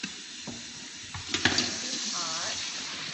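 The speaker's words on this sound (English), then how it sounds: "You can see they've just been boiling and been sitting there. So I'm just going to strain them over here." Boiled lentils being strained, hot water splashing and draining into a sink in a home kitchen, a steady running-water wash with a few louder clanks and splashes near the middle, close by.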